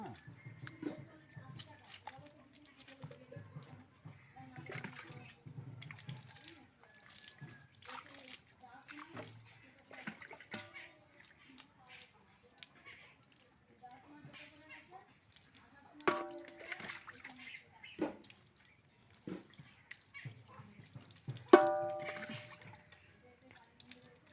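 Water splashes and sloshes while a pet dog is bathed at home, light trickling and louder splatters coming in bursts under near-constant talking, including a voice.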